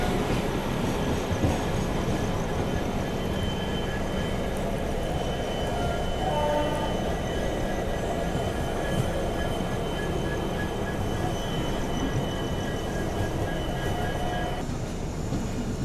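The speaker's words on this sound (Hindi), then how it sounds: "चलिए दोस्तों, अपना अराइवल होता हुआ यशवंतपुर रेलवे स्टेशन पे।" The 12650 Karnataka Sampark Kranti Express pulls into Yesvantpur railway station with a steady loud rumble of wheels on rails, faint squeals and brief whistling tones, no voices.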